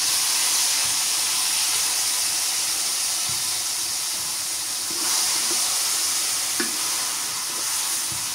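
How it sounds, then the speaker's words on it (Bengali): Kalmi greens (water spinach) fry in a pan with a steady, close sizzle and hiss that runs throughout, marked by a few soft stirring knocks. "শাক ভাজা হয়ে গেছে"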